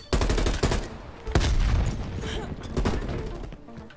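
Rapid automatic gunfire from Call of Duty Cold War multiplayer on Xbox Series X rattles in loud close bursts, with a heavy boom among the shots, filling the whole stretch.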